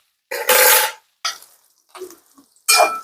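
Bitter gourd frying in a pan while being stirred, heard as several loud bursts of hissing sizzle and scraping cut apart by abrupt stretches of silence, close up.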